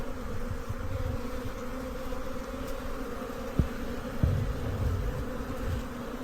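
A dense, steady buzzing of many honeybees in an open hive box of eight frames, with a low droning hum throughout and a couple of brief close bumps or taps.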